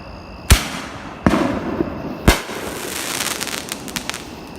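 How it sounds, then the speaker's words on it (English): Neighbours' fireworks at a late-night barbecue go off in three sharp, loud booms a second or so apart, followed by scattered crackling bursts. "Sounds like next door shooting off fireworks now."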